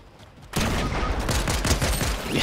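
Rapid bursts of gunfire in the Fortnite video game, loud and dense after a quiet start, with overlapping shots sustained to the end.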